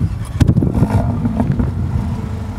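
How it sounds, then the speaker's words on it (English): Mercedes-Benz GLA 45 AMG engine starting up, a close, steady low rumble with a brief rise in the first second before settling into an even idle. "I'm gonna start this engine for you."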